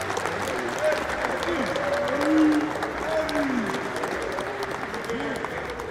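Audience applause at a college football coaches' show, loud and steady over several seconds, with cheers and whistles rising through it and voices mixed in.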